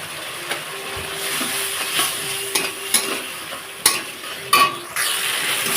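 Spice masala with tomato, water and chili powder fries in a pan, a soft continuous sizzle broken by repeated scraping stirs and sharp clinks of a utensil against the metal, close and without speech.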